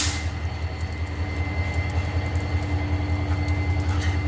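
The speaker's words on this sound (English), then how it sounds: "look, a train." A train passes along the tracks with a steady, loud rolling rumble that holds for the whole few seconds, its wheels clattering on the rails, with a faint high squeal over the top.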